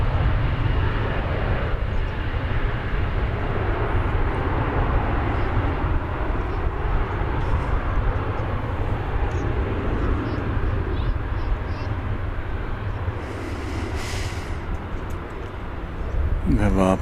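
An American Airlines Boeing 737-800 jet at Dallas Fort Worth airport gives off a steady, moderately loud engine roar that holds for the whole stretch and eases slightly near the end, with a voice talking over it throughout.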